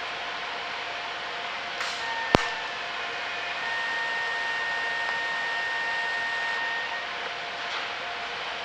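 Welding while tying in welds and adding filler rod makes a steady, even hiss with a faint thin whine running through it and one sharp click partway through, with no speech.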